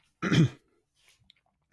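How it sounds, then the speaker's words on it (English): A single short, throaty cough up close, followed by faint breaths and small mouth clicks. "little cough there."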